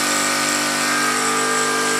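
An electric drill runs steadily on power from a fuelless generator through an inverter, giving a loud continuous motor whine and hum with no pauses and no talking, while a fan and lights run on the same supply.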